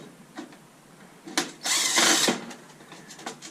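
A cordless screw gun undoes screws from e-waste circuit boards in short, faint whirring bursts, with one longer spin in the middle and light clicks around it.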